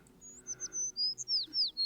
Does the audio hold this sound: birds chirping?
yes